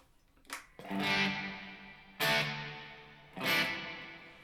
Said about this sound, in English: Then you've got some more kind of damp and shimmer kind of effects.